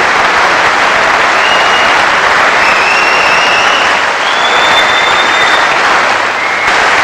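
A snooker crowd applauding a popular World Doubles Championship win in 1984, a loud, dense, sustained wash of clapping that fills the hall with no let-up.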